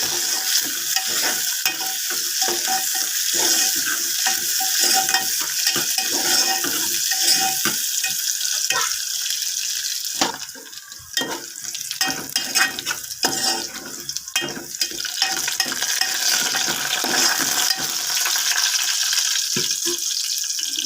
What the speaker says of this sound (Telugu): కరివేపాకు, కాస్త చిటపాకు లాగించి ఉల్లిపాయ ముక్కలు గోల్డ్ కలర్ వచ్చేదాకా వేసుకున్నా